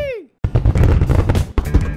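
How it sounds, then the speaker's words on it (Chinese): Fireworks going off at a New Year's Eve countdown crowd at Chiang Kai-shek Memorial Hall: a falling whistle, a short gap, then a dense run of loud cracks and bangs with crowd noise mixed in. "新年的第一发烟火"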